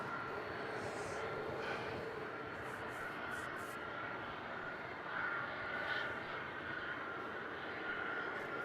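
A jet aircraft taking off from runway 27 at Melbourne Airport at night, a broad steady roar heard from a distance with a faint swell partway through, continuous and without speech.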